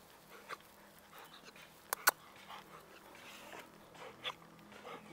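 A dog that has choked on a biscuit whimpers and pants softly, with a couple of sharp close clicks or knocks midway and faint breathy sounds throughout.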